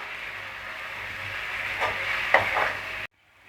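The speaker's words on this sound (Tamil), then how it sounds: "இஞ்சி பூண்டு பேஸ்ட்டு நல்லா பச்சை வாடை போகிற வரைக்கும் வதக்கி விட்டுட்டே இருங்க" Ginger garlic paste sautéing in a pan for egg biryani, giving a steady close hiss of frying with a couple of soft stirring scrapes before it cuts off abruptly, with no voices.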